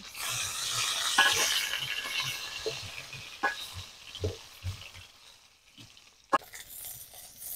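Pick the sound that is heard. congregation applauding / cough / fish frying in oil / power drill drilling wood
fish frying in oil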